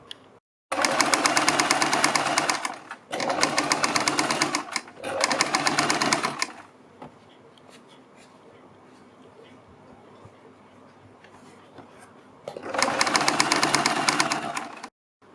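A sewing machine stitching yellow fabric runs in three close bursts, pauses through a quieter stretch, then whirs again near the end, its rapid needle chatter loud and near.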